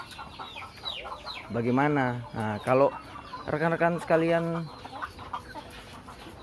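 Laying hens in a small backyard coop clucking and squawking in drawn-out, rising calls near the middle, under someone talking quietly before and after.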